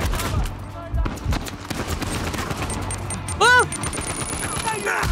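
Uncharted 4 firefight: volleys of gunshots and machine-gun bursts crackle nearby in uneven clusters, with a person talking during the shooting.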